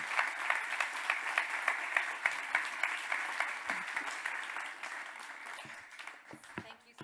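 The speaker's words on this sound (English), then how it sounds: "please give him a warm round of applause" Warm audience applause fills a Monaco Ocean Week conference hall after an interview with Nico Rosberg, dense steady clapping that gradually thins and fades toward the end, with a voice briefly speaking over it.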